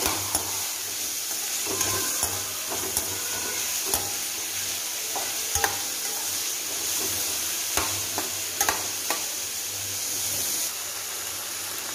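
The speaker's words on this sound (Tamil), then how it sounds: "ஆனியன் வந்து கொஞ்சம் நல்லா வதக்கணும்." Onions sautéing in a pan for masala idly, a steady crackling sizzle running throughout with occasional sharper clicks of stirring, close and fairly loud, with no talking.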